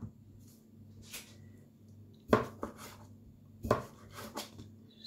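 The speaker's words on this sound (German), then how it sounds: "Genau so schneide ich auch die Gurke." A knife cutting cucumber for a salad on a wooden board, a few sharp, close chops with uneven gaps and soft scraping between them, over a faint steady hum.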